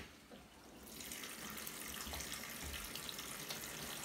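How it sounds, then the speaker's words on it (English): A water tap turned on full, gushing a steady, loud hiss of running water into a Costway mini twin tub washing machine, swelling up in the first second and then holding constant. "I'm gonna turn the water on full"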